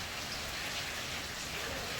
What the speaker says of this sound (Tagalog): Hangin, malakas, tapos may kasamang ulan